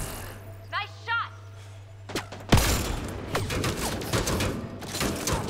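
Gunfire in the Mass Effect Andromeda game: a sharp loud blast followed by a dense run of shots and impacts, preceded by brief voices and a low hum.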